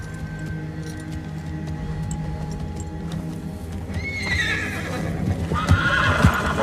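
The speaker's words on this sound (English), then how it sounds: "we see Bran riding his horse with his brand new saddle designed by Tyrion." A horse being ridden, its hooves clip-clopping steadily, then a loud whinny rises partway through and further neighing and hoof thuds follow near the end, with no talk.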